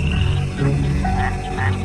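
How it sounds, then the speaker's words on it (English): Mexican white-lipped frogs chirp and croak in a dense chorus, short repeated calls overlapping one another against a steady background hum. "the Mexican white-lipped frog makes a series of chirping sounds"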